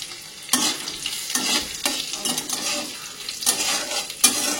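Cashews, raisins, ginger and green chilli fry together with vegetables in a pan, a sizzling hiss broken by rhythmic scraping strokes of a spatula every half second or so, close and fairly loud.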